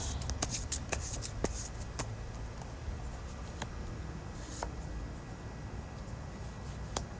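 Tarot cards are shuffled close by in a soft continuous rustle, with sharper snapping clicks scattered throughout and no talking.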